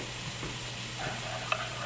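Ground beef being stirred in a pan for beef stroganoff: a steady low sizzle with soft scraping and shuffling, a faint constant hum beneath and one brief sharp click near the end.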